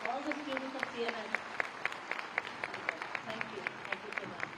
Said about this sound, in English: I think Honorable Sir deserves a very, very good round of applause